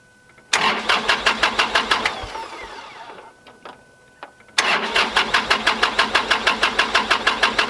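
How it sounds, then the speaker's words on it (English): Kubota tractor engine cranking rapidly with a loud starter rhythm that stops, then cranks again after a short pause, all close and unaccompanied by talk. "I actually turned the tractor on and let the emissions blow out"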